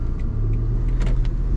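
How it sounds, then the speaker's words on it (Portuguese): A Citroën C3 with a 1.6 automatic moves off from standstill once the handbrake is released, its engine giving a steady, close low hum and rumble with no talk. "Botar no D, soltar o freio de mão"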